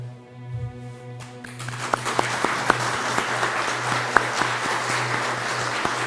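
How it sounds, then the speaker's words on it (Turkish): An audience at a memorial ceremony in Türkiye bursts into applause for health workers, the clapping swelling quickly into a dense, sustained roar of many hands after a brief lead-in. "Bütün sağlık görevlilerimiz adına onları alkışlasak ne dersiniz?"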